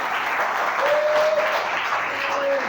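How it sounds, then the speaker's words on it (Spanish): A church congregation applauds during worship, a dense, steady wash of many hands clapping throughout, with a faint sustained tone running over it. "Denle un fuerte aplauso a Señor."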